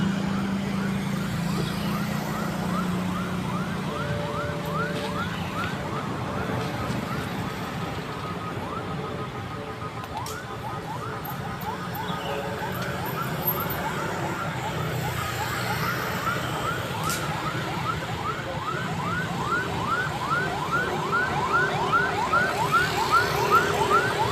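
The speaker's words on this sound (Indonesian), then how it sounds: "mobil pemadam kebakaran datang lagi" A wailing fire engine siren rises and falls steadily throughout, sounding fairly close, over constant traffic rumble and engine noise, at a large fire in an industrial area of Cikarang, Indonesia.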